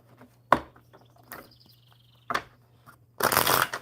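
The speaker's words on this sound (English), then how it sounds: "One more good shuffle for you." Quick riffle shuffles of playing cards, a short burst early then a longer, louder flutter at the end, with a low steady hum underneath.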